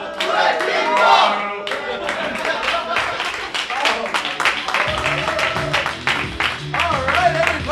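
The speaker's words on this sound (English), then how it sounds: "Give a big round of applause for Cicely Lang and Will." Audience clapping at a live game-show style competition event, a steady patter of hands building and carrying on with voices mixed in throughout, fairly close and loud.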